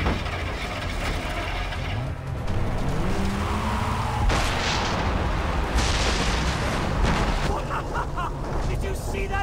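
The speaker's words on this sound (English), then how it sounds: "Did you see that explosion?" Explosions in the video game Far Cry 3, heavy bursts that break through a constant dense rumble of mechanical clatter and game noise, with a couple of loud blasts a second or so apart.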